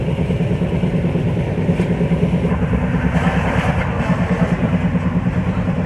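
A long-distance passenger train travels at night, heard from inside the carriage as a loud, continuous low rumble with a faint rhythmic rattle. No one is talking.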